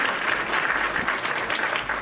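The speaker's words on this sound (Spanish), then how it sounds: "Diego Campo, le vamos a dar un excelente aplauso y una bienvenida." Audience applause welcoming a guest to the stage at a talk, a steady dense clapping that fills the whole moment without a break, fairly loud and close.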